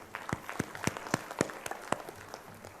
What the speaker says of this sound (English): Kindly give them all a round of applause.